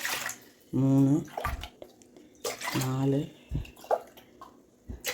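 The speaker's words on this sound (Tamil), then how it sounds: "இப்போ இதுக்கு வந்து நம்ம 10 டம்ளர் தண்ணி ஊற்றிக்கணும்." Two tumblers of water are poured into a heavy cooking pot, each a close gurgling pour with rising pitch lasting about half a second, while a woman counts aloud between them.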